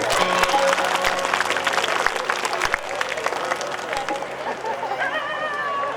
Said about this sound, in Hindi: ताली बजा बढ़िया